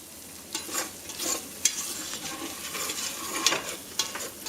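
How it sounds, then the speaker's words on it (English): Spoon stirring a creamy wild rice and chicken soup mixture in a pot over low heat, with soft scraping strokes and a faint simmering sizzle underneath, close and steady with no talking. "So let's get this mixed together on a low heat until it's bubbly, and you want to stir all the time."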